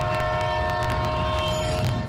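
A train sound effect opens a Lagos Traffic Radio 96.1 FM train schedule segment: a loud, sustained horn tone layered over rumbling rail noise, continuous throughout.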